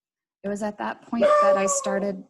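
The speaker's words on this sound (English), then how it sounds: "I am so sorry about my dog today." A female dog howls and whimpers indoors in a few short wavering bursts that rise into a longer high howl, loud and close, overlapping a woman's speech.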